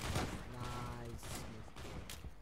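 Rapid bursts of gunfire in the Roblox first-person shooter Phantom Forces, with dense shots fired near and loud throughout and a voice speaking over the gameplay.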